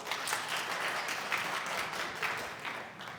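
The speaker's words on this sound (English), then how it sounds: "if you'll give her a round of applause, we're going to get started." An audience at an education panel forum on autism gives a round of applause, a soft, steady patter of many hands that stays fairly distant and even throughout.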